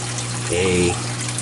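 A BRS dual media reactor running carbon and GFO on a reef aquarium gives a steady watery gush with a low pump hum, swelling briefly in the middle of the clip.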